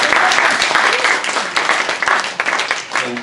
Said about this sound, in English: Can we have a round of applause for Stacy?